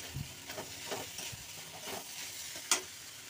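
Banana stem curry frying in a pan with tomatoes, a soft continuous sizzle broken by a few scraping stirs and one sharp clink near the end, close and fairly quiet, no voices.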